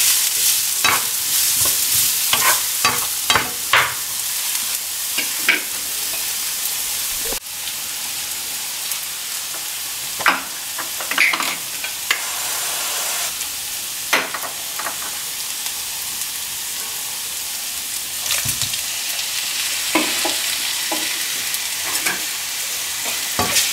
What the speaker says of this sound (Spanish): Voy a hacer aquí un espacito para sofreír el pollo de este lado.